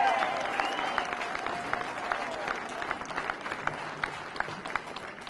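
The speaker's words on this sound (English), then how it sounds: "Let's have a great round of applause for Andrew Biggio" A crowd claps steadily in applause at a veterans' motorcycle run in Revere, a dense fairly distant patter that slowly thins toward the end.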